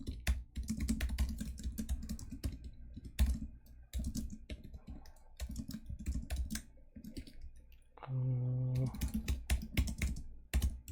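Rapid, steady clicking of keys on a computer keyboard, close up, with a brief pause and a low hum partway through.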